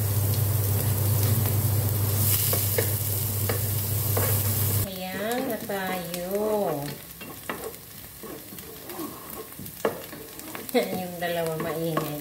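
Onions sizzle and crackle steadily in a hot pan, a constant frying hiss with a kitchen exhaust fan humming behind it, then quieter sizzling under a few brief voices.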